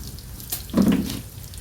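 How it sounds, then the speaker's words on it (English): Water pours from a watering can down into the engine of a 1983 Oldsmobile 98, a short splashing trickle that swells briefly and then fades, close by with no talking. "I guess we'll run a little water down in there"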